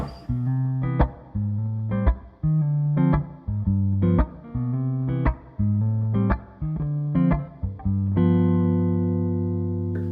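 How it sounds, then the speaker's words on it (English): A Gretsch Jet electric guitar with its tone switched to the darkest high-end roll-off plays a sequence of warm, mellow jazz-style chords, each struck cleanly and left to ring, ending on a long sustained chord. "This is the most high-end roll-off, and this is what it sounds like."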